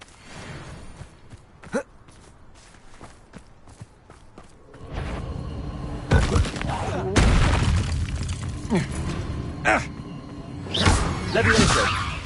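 Confringo blast spell going off in a Harry Potter video game, a sudden heavy boom after a quieter stretch of scattered thuds, followed by rumbling debris and further bursts, loud and close.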